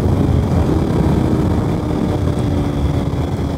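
A 2020 Yamaha YZF R 125 motorcycle riding at speed, a close, loud, steady engine drone mixed with rushing wind noise, with no talking.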